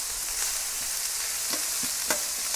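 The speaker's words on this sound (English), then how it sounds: "a little bit of oil on here and start frying the broccoli stems." Broccoli stems fry in a little oil on a griddle, giving a steady loud sizzle with a few soft clicks and taps as they are moved around.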